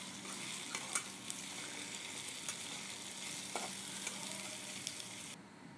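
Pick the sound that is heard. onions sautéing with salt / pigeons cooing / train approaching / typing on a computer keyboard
onions sautéing with salt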